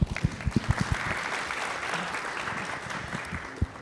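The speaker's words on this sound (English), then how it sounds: "I want to just give you a round of applause" Steady audience applause fills a 2024 conference hall at a clinical trials meeting on Prader-Willi syndrome, a dense wash of clapping with a few low thumps near the start, fairly distant and even throughout.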